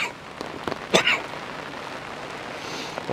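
Rain falling outdoors on a Tokyo street gives a faint, steady patter and hiss, with a few sharp nearby clicks and knocks.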